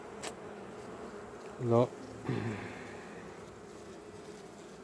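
Agitated honeybee colony during an inspection of a recent swarm's hive: a steady low buzzing hum runs throughout, with a louder close bee buzz flaring twice midway and a short spoken word early on.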